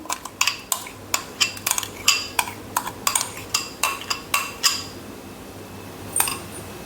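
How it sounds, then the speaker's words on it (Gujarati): A spoon scrapes and clinks against a pan over and over as a thickening sweet mixture is stirred, giving a brisk, uneven run of metallic knocks up close that then fades into quiet. "આ મિશ્રણ એકદમ થીક થઈ જાય ત્યાં સુધી આપણે તેને આ રીતે ચલાવતું રહેવાનું છે"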